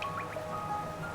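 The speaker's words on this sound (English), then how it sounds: "the rain pours down from cracks in the stone above" Rain dripping in the City of Tears, the underground cavern city of the Hollow Knight video game, heard as steady liquid drips and splashes over a constant watery background, with no voices.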